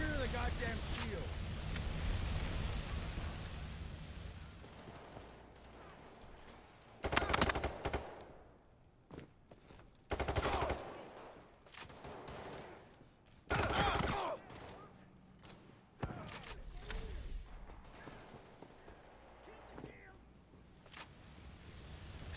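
Gunfire bursts in a first-person shooter video game, with several loud clusters of rapid shots rising over a busy mix of in-game sound and voice chat, spaced a few seconds apart.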